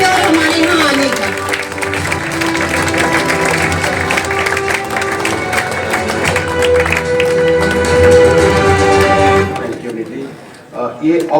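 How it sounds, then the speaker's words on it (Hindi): Loud, sustained applause from a crowd gathered at a public event launching an anti-adulteration campaign, dense clapping mixed with music and cheering for about ten seconds before dropping away. "आप लोग प्लीज एक बार जोर से ताली बजाइए"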